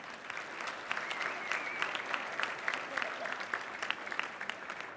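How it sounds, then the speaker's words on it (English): An audience at a bar association installation ceremony claps steadily, a dense even round of applause from a roomful of people, moderately loud throughout. "So please give them a big round of applause."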